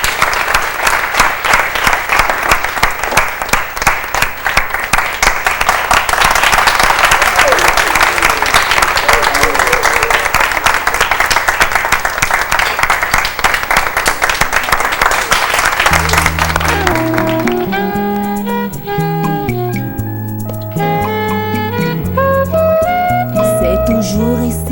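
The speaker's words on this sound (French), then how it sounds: "Applaudissez." Audience applause greets an artist coming on stage, dense steady clapping filling the first sixteen seconds before fading as music begins and takes over.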